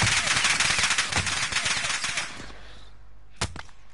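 Rapid bursts of gunfire in Call of Duty Warzone on Rebirth Island, a dense crackling volley for two seconds, then a quieter pause and one more sharp shot close by.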